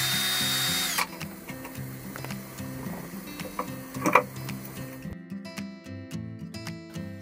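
A power drill bores holes to mount a trim tab control unit on a boat, its motor whining loud and close for about a second, then running on in a steadier, quieter buzz with ticking and rattling.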